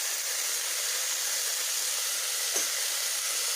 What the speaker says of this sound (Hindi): अब इसको 5 मिनट तक फ्राई करूँगी।